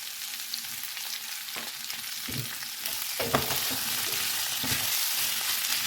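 Cauliflower and potato frying in a pan as salt and chopped tomatoes go in, a steady close sizzle with occasional stirring scrapes and soft clatter, no voices.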